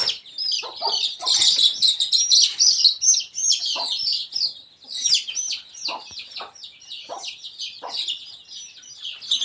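Hens cluck busily at close range in a Konkan village yard at Hardakhale Dhangarwadi, overlapping bursts of clucking and high chirps from young chicks running continuously for several seconds, with faint voices now and then.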